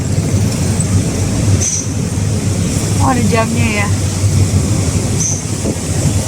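A train passes close by with a steady loud rumble of wheels on rails, while people talk over it in the foreground.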